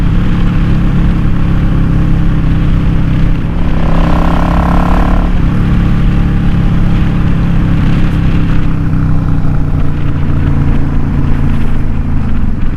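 A motorcycle fitted with a K&N Chrome Top universal air filter and a re-jetted Mikuni carburetor pulling in fifth gear, its engine droning loud and steady under heavy wind rush, with a brief rising whine partway through.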